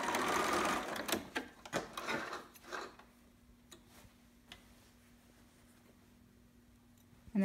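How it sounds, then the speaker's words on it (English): A home sewing machine back stitches over elastic on a baby romper, a brief burst of close stitching followed by soft ticks and a faint hum as it slows and stops. "And then I'm going to back stitch."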